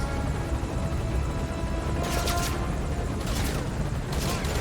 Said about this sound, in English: Then get in the helicopter, and that's it.